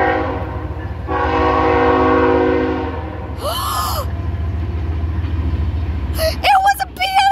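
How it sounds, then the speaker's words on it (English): A BNSF freight train running on CSX tracks rumbles steadily nearby, its horn sounding clearly in a long sustained blast, then a shorter honk and a later burst near the end, with a person exclaiming briefly. "We got a train coming."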